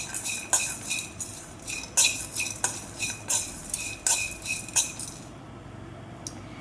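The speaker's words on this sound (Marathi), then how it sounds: "खोबरं, जिरे आणि शेंगादाणे पण काळसर होईपर्यंत भाजून घ्यायचे।" A utensil repeatedly scrapes and clinks against a pan as coconut, cumin and peanuts are dry-roasted, in a steady rhythm of about a dozen close metallic strokes that stop near the end.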